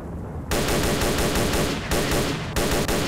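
Heavy automatic gunfire in S.T.A.L.K.E.R.: Shadow of Chernobyl, loud and close, coming in three rapid bursts separated by brief pauses.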